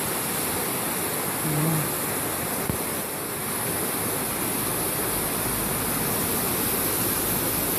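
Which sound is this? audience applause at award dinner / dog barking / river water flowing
river water flowing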